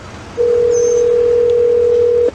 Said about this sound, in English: Calling Dave Knight Kaya.